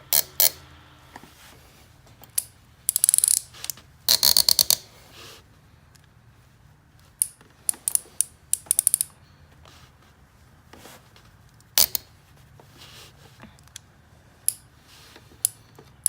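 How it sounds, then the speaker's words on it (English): A ratchet clicks and squeaks in short irregular bursts while spark plugs are slowly backed out of a 2004 Saab 9-3, close and sharp against a quiet background. "And a lot of that squeaking sound that you hear, that's actually from the ratchet itself,"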